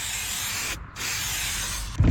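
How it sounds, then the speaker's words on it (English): Two close, steady hissing bursts of silicone spray into a car door's window channel, separated by a brief pause, with a short clunk at the end. "take some of this silicone spray and we're just gonna spray it right in that channel"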